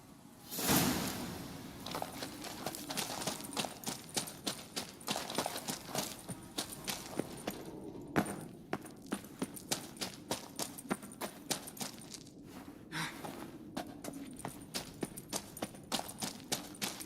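Rapid hoofbeats as the horse Roach gallops in The Witcher 3, a continuous drumming clip-clop at a quiet, even level with brief shifts in pace.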